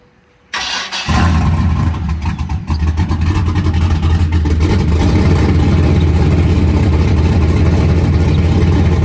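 A modified Chevy S10 with a 5.3 engine fires up after a brief quiet moment, then settles into a loud, close, choppy rumble that keeps roaring steadily to the end.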